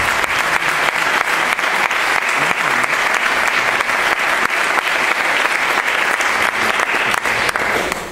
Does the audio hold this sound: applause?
yes